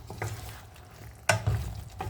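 Eggplant and potato pieces stirred while frying in a pan with dried fish, a low sizzle under a few quick scraping strokes and one louder clank of the spoon, close and brief.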